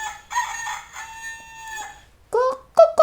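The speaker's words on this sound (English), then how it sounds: "The rooster wakes the farmer in the morning." A rooster crows on a farm, a long harmonic cock-a-doodle-doo up close and loud, followed after a short pause by two sharper clucking calls.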